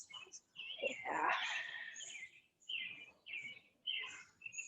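Birds chirp and sing in a park in the early morning. The calls are faint and scattered, with short repeated bursts and soft voices in the background.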